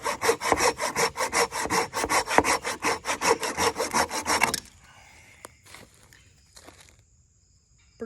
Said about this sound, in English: Pretty good cut. Nice little saw.